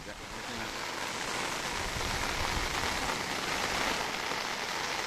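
Heavy monsoon rain pours down steadily in Kodagu district near the flooded Triveni Sangama, a dense, even hiss of drops hitting surfaces that stays loud throughout.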